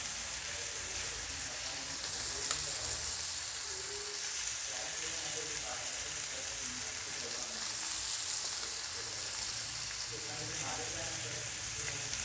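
Semolina-coated prawns frying on a hot tawa, a steady close sizzle with soft crackles and the occasional stir or scrape, continuous throughout.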